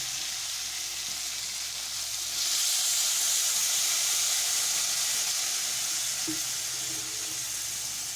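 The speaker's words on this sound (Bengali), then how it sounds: "এবারে আমি এর মধ্যে এক কাপ মতো জল দেব" Water is poured into a hot pan of small chiti crabs cooking for crab do pyaza, raising a steady close sizzle and hiss that swells partway through and continues without talking.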